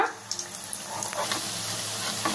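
Potato bondas frying in oil on a medium flame, a steady soft sizzle close by with a few small pops and stirring clicks, no talking.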